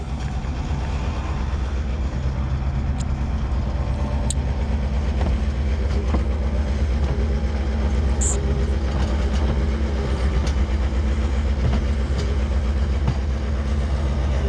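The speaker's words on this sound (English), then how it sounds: "just giving it a bit of a rough level in between the trees with the skid steer" A skid steer rough-levels ground between newly planted spruce trees, its engine giving a steady, continuous low rumble with faint scraping and clanking on top, close and constant throughout.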